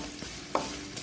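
Chopped onion and garlic sautéing in a pan for Kozhikode-style sardine pickle, a brief close sizzle with a single sharp stir or scrape partway through.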